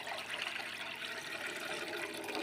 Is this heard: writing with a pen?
no